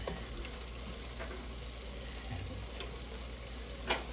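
Tomato sauce frying in a pan for sweet chili spaghetti gives a steady soft sizzle while it is stirred, with a few faint scrapes and one sharper clink near the end; no one speaks.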